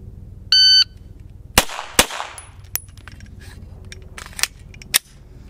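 A shot timer beeps, then two sharp, loud gunshot cracks ring out at a shooting-practice target, followed by several fainter, scattered pops and clicks over steady background noise.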